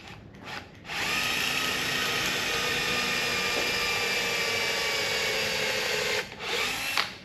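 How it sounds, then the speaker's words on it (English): A power drill drills straight down for about five seconds while making fish dehookers, a continuous whirring grind, preceded and followed by brief bursts and handling noise. "we're just drilling straight down."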